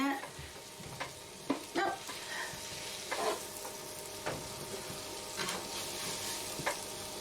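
Flour is stirred into melted butter in a pan, giving a faint, continuous scraping and sizzling with irregular spoon strokes, while a voice briefly speaks over it.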